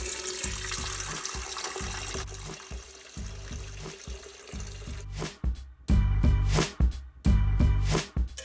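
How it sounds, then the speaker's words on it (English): Peppermint sugar cookie scented candle wax is poured steadily into a container, a continuous liquid pour over a rhythmic background beat that swells louder toward the end. "Now I'm just going to pour right into it."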